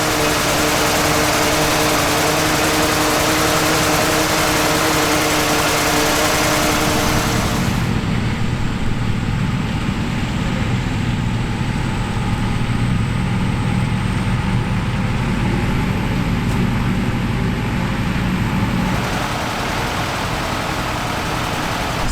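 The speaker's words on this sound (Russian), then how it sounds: "Сейчас перематываем трос, а то намотало на одну сторону барабана." A loud, steady truck engine drone throughout, with a heavy mechanical hum from a winch rewinding cable evenly onto its drum, shifting in tone partway through as the machinery works.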